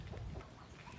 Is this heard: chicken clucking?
yes